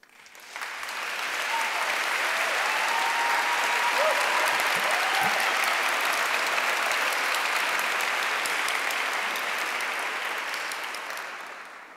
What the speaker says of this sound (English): I'm afraid to speak after the warm applause that you have given me